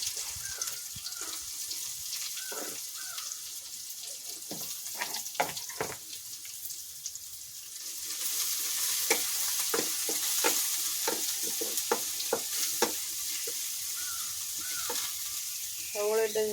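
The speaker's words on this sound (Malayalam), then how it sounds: "ഇനി നമുക്ക് അരിഞ്ഞു വെച്ചേക്കുന്ന സവോള ഇട്ട് കൊടുക്കാം." After a stretch of scattered clinks and stirring, chopped onion goes into hot oil with mustard seeds, setting off a sudden louder, continuous sizzle with crackles and spoon scrapes close by.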